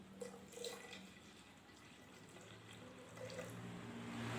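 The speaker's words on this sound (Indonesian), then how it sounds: "Setelah itu kita tambahkan air 125 ml hingga 250" Water running steadily from a tap into a measuring container, a soft continuous pour at low level that gradually grows a little fuller as the container fills.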